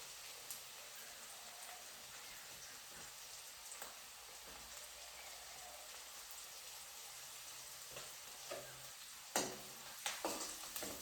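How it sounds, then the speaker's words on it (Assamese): A vegetable bhaji fries in a pan with a faint, steady sizzle throughout, punctuated near the end by a few sharper clicks and scrapes of stirring. "ইয়াত মই ভাজি বনাই আছোঁ"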